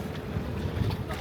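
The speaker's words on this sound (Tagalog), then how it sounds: "Hangin ka diri oh." Steady wind rumbling against the microphone in Marigondon, Lapu-Lapu City, Cebu, Philippines, low and blustery, with faint engine-like drone beneath and a voice briefly present.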